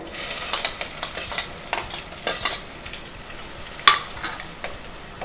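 Cloves, cinnamon, bay leaf and chopped onion fry softly in oil and ghee, with a faint sizzle and scattered, uneven stirring clicks, one sharper knock among them. The sound is quiet and there is no talking.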